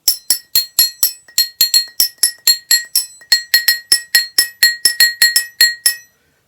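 Thick glass struck repeatedly like a bell, about two dozen bright ringing clinks in a quick, fairly steady rhythm, close and clear with no voices.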